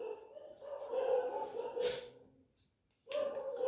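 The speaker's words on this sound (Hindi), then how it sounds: "कुत्ते बहुत ज्यादा भौंक रहे हैं बच्चों" Several dogs barking and whining outdoors at night, a sustained chorus of barks that fades briefly before starting up again, with a voice talking faintly alongside.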